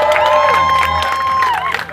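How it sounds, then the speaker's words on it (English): A crowd at a Southern California 80s and 90s car show claps and cheers, with whoops and shouting over continuous applause, while a voice carries through on a sustained tone across the noise. "Let's hear a little round of applause."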